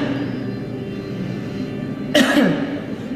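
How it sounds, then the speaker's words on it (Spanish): A single forceful, deliberate cough, done as part of a breathing exercise for respiratory patients, breaks in near the end over a steady low background hum. "La tos que todos conocemos."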